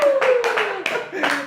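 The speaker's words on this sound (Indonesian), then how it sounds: "Oke, tepuk tangan." A studio audience claps in a short burst of several quick rounds of applause, overlapping a sustained voice tone, brief and fairly close.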